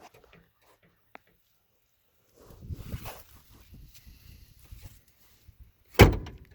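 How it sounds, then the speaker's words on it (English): Quiet rustling and shuffling build, then a single loud, solid thud as a car door slams shut nearby. "Sounds nice when the door closes though."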